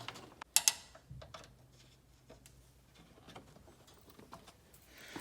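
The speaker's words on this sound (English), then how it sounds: "Let's get the clamp tightened." A hose clamp being tightened on a coolant hose in the engine bay of a 1968 Ford Mustang with a 460 big block, giving a few sharp clicks and then faint, irregular ratcheting and scraping mechanical sounds close by.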